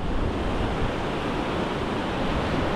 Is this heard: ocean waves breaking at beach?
yes